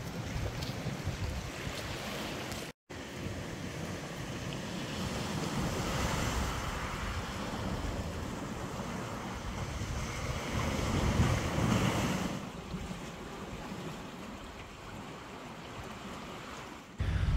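Strong wind buffets the microphone on a steep coastal path in the Var, a steady, loud rushing roar with gusts and faint surf underneath, and no talking.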